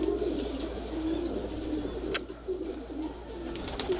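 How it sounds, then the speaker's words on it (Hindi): A high flyer kalpare pigeon in a loft coos softly in repeated low rolling phrases, close by over a faint background hum, with a brief sharp clatter midway. "ये प्योर कबूतर है, बिल्कुल ओरिजिनल हाई फ्लायर।"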